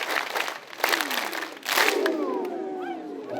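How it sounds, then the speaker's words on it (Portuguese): Young people in a Mozambique mission gathering cheer and shout in a brief burst of crowd noise, with scattered clapping and voices rising again after a short dip. "Os jovens vão bater palmas para todos os cristãos que estão aqui rezando conosco"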